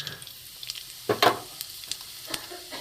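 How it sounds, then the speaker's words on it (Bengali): Five-spice seeds sputter and crackle as they drop into hot mustard oil in a pan, with a brief louder burst of sizzling followed by scattered faint pops. "তেল সর্ষে তেল দিয়েছি গরম হয়ে গেছে এখানে দেখুন পাঁচ ফোড়ন আছে পাঁচ ফোড়ন আমি এতে দিয়ে দেবো"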